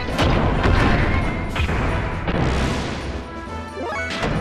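Rockets fire and explode in Xenogears, a barrage of loud, crashing booms tumbling one after another in quick succession with no talking over them.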